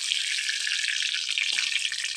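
Fish rubbed with turmeric and salt fries in a pan, giving a steady, loud, close sizzle throughout with a brief soft scrape partway through.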